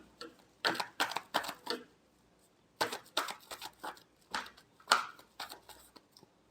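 Tarot cards being shuffled by hand: quick papery riffles and slaps arrive in three short bursts separated by pauses, close and fairly quiet with no speech.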